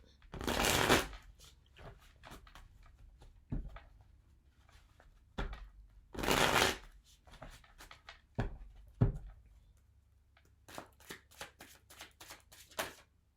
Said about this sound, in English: We're going to shuffle this again.